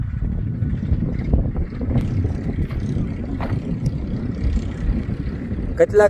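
A Champion tractor works a groundnut field during sowing, its continuous low engine rumble coming from across the farm, heavily buffeted by wind on the microphone.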